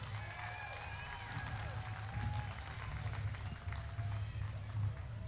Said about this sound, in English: we ought to give them a big round of applause one last time